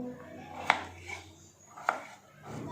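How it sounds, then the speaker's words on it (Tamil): Potatoes are cut into large pieces with a knife on a board, giving two distinct sharp chops about a second apart over a quiet background with faint handling noise. "இந்த மாதிரி பெருசாக கட் பண்ணிக்கோங்க"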